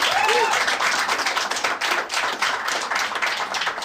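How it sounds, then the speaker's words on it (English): Scattered clapping from a stand-up comedy audience, a thin patter of individual claps rather than a full ovation, steady throughout. "Not applause from everybody,"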